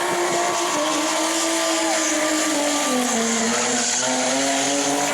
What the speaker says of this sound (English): He's sparking the tires off that thing